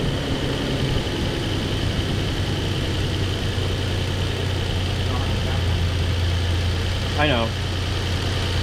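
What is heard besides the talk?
car engine idling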